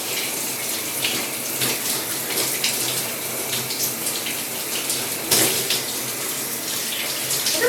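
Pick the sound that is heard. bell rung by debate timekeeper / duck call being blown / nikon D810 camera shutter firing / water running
water running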